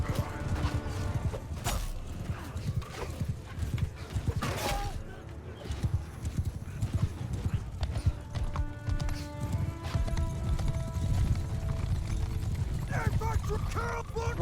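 Horse hooves clattering in a mounted cavalry charge in the medieval battle game Mount & Blade: Bannerlord, a dense continuous rumble of galloping mixed with battle clangs and noise, with voices talking over it.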